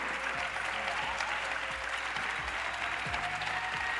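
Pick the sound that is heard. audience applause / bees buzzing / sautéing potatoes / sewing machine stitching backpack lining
audience applause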